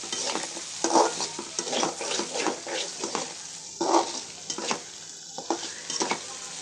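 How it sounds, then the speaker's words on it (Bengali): Jute leaves with lentils frying in a pan, seasoned with turmeric and salt, with a steady sizzle and frequent scraping stirs of a spatula against the pan. "কিছুক্ষণ এভাবে আমি ভাজতেছি, অনবরত নাড়তে হবে, তা না হলে তলানিতে লেগে যেতে পারে।"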